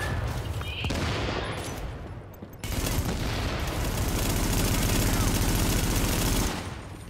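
Mortar rounds and gunfire in The Division on hard mode, a dense, loud barrage of rapid shots and blasts running almost the whole way, briefly dipping near the middle before resuming heavier.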